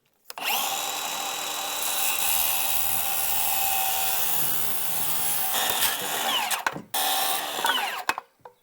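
A power saw cuts wooden boards for a playhouse loft floor, a loud sustained whining roar lasting several seconds, then winding down with a few brief bursts as it stops.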